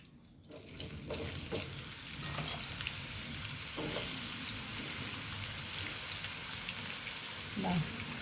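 Mango pieces for pickle frying in hot oil, a steady broadband sizzle running throughout with a few soft clinks and stirring bumps, fairly close; faint background voices at moments.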